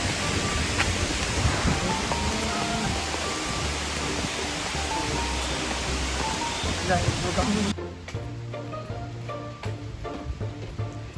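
Strong rushing water from a waterfall, a steady broadband roar that fills the clip and drops in level partway through as music-like tones come in underneath.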